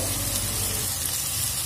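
Chopped tomatoes hit a hot pan of parwal masala with chillies, giving a loud, continuous close sizzle and crackle with no voices.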